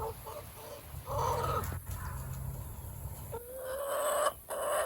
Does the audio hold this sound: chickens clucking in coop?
yes